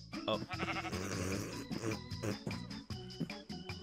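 Sheep in the Minecraft video game bleating, several wavering nasal baas one after another, fairly clear over a busy mix of other game sounds.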